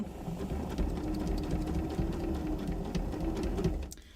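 A sewing machine runs steadily, stitching a wide circle skirt with lots of fabric feeding under the needle, a loud continuous motor whir that cuts off just before the end.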